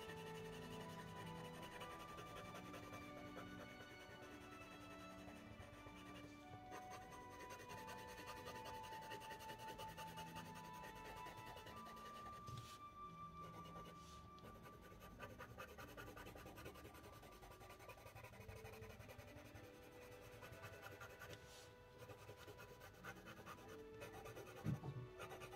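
Pen or pencil colouring in a simple Easter illustration, a steady scratchy rubbing of the tip on paper running continuously throughout under background music.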